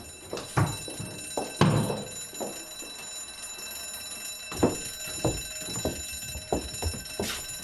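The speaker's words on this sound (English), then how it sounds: "that's what set the smoke alarm off" A household smoke alarm sounds in a TV soap scene, heard as a steady high-pitched tone under sharp intermittent bangs and clatter, set off by a small fire.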